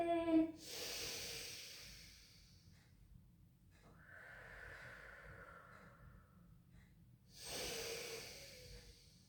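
Deep breaths taken during a gentle pilates rehab exercise: a quiet, close, airy inhale at the start, a softer breathy stretch in the middle and another full breath near the end, with no talking.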